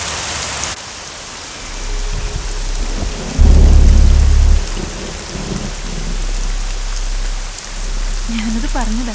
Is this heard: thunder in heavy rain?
yes